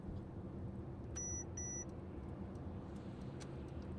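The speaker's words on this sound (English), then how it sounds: "provide a beeping noise to let the driver know they shouldn't make" Two short high electronic beeps from the blind spot warning of a 2025 Mercedes-Benz AMG GLE Coupe ring out over a steady low engine rumble, followed by faint ticking; no one speaks.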